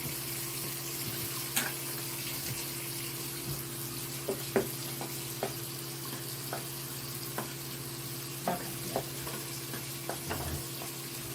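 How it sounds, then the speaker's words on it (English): Tap water runs steadily into a kitchen sink during dishwashing, with scattered clinks and knocks of dishes over the continuous flow. "I'm washing dishes with the water running"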